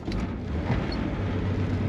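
A 1973 Datsun 240Z with a turbo and a sticking gas pedal, long unused, driving along: a low, steady engine rumble heard from inside, fairly faint and even, with no talking.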